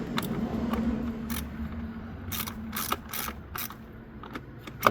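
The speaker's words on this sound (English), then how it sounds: "Now get your 10mm socket. Just go till it's snug." Ratchet with a 10mm socket snugging a spark plug coil bolt on a Hyundai Accent, several short bursts of quick clicking at close range with pauses between, fairly faint over a low background hum.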